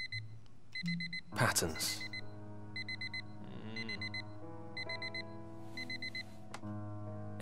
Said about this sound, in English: Harry never wakes up from my alarm.